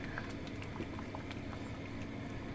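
Coconut milk and bar brown sugar simmering in a pan for biko, giving a steady close bubbling with soft pops and patter throughout.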